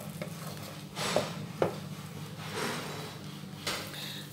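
Paneer butter masala is stirred in a pan over a low flame, with soft scraping strokes and a few sharp clinks of the spoon against the metal over a low background hum.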